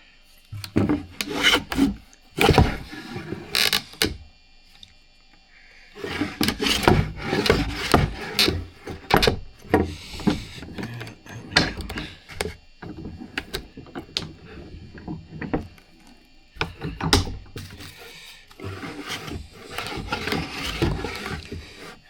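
A waxed transitional hand plane glides across a wooden board in a series of rasping, scraping strokes, each a burst of a second or two separated by short pauses, close and fairly loud with no talk.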